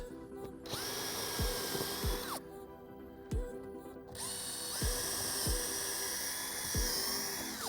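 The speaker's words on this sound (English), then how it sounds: "we're gonna re-drill the holes and apply rivets to all the holes" A high-pitched power drill whines in repeated bursts, spinning up and biting into metal siding panels several times with short pauses between, re-drilling holes for rivets.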